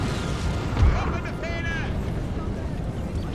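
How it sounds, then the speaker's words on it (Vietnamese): Cannon artillery fire in the Napoleon Total War battle game, a deep boom near the start over a continuous low rumble of battlefield noise, with a voice talking over it. "Pháo binh của chúng ta bắt đầu ạ."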